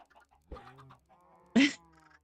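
Two brief chicken clucks sound in the survival video game Adrift, the second louder and sharper, with quiet pauses between.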